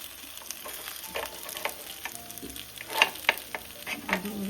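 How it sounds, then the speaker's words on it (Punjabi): Food sizzling and frying on a tawa griddle, a steady close hiss with scraping spoon strokes and a few louder clinks toward the end, no talk. "ਚਿਕ ਚਿਕ ਹੋਣ ਲੱਗੀ ਤਵੇ ਦੀ"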